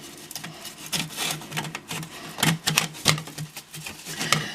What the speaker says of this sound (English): Now put your clamp on.